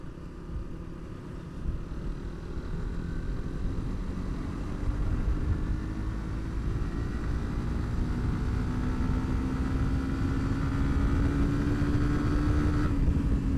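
A Suzuki GSX-R motorcycle engine pulls hard in fourth gear, its drone rising steadily in pitch over several seconds under steady wind rush, loud and continuous, with no talk.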